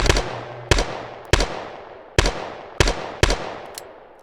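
Gunfire from a scoped weapon in a shooter game, six sharp separate shots at uneven intervals of roughly half a second, each ringing out with a decaying echo, no talk.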